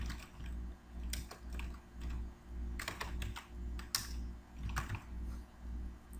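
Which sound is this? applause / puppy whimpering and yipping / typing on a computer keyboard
typing on a computer keyboard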